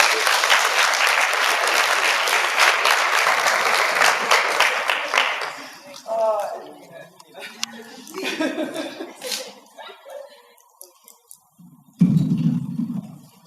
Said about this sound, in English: Can we give Diana a round of applause?